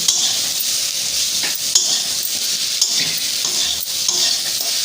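Half-cooked potatoes and ridge gourd are mixed in a pan with nuts, giving a close, continuous sizzle broken by several sharp scrapes of a spoon against the pan, with no speech.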